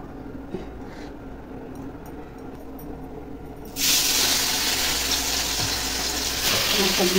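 Fish hits hot oil partway through, and the sizzle jumps from a quiet hum to a loud, bright, continuous crackle that carries on to the end, with no talking.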